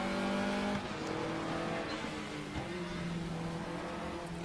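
A Formula RaceRoom Jr open-wheel race car at Laguna Seca in RaceRoom drones steadily and loudly, with its engine pitch stepping down through gear changes as it brakes toward a corner.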